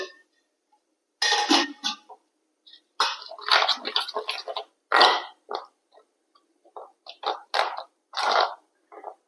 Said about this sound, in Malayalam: നമുക്കിതിലേക്ക് വെള്ളം ചേർക്കാം.